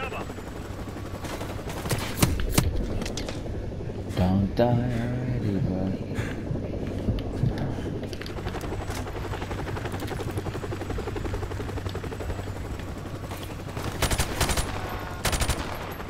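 Helicopter and gunfire in Call of Duty Modern Warfare Remastered: a steady rotor drone runs underneath while rapid bursts of automatic fire crackle, loudest early on and again near the end, with a player's voice talking in places.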